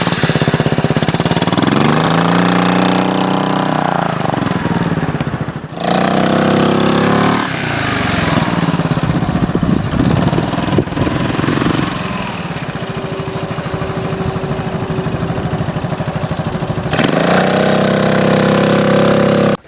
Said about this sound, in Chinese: 罗孔的发动机是近几年才换的科勒